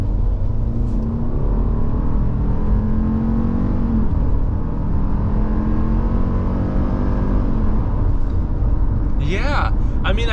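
A Subaru Outback with a CVT transmission floored from low speed, a droning engine and whirring drivetrain climbing smoothly in pitch from inside the cabin, with a voice speaking near the end.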